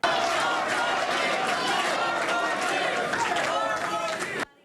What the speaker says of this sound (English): A sea of supporters celebrating as Beshear accepted the Democratic nomination at the Kentucky Historical Society.